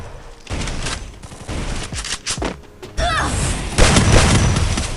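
Gunfire in the shooting game Free Fire, bursts of rapid shots and booming blasts in quick clusters, loud and close, with no talk over it.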